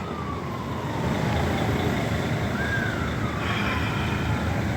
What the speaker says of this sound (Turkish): arkada bir ambulans ötüyor ama seni kimse duymaz